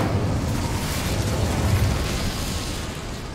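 The Incendio fire spell in Hogwarts Legacy roars as a loud, sustained whoosh of flame, steady and broad for several seconds before easing slightly.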